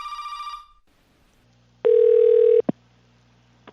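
Telephone sounds on an outgoing call: a brief buzzing ring tone, then a pause, a loud steady electronic tone lasting under a second, and a couple of short clicks and blips from the line, with no voices.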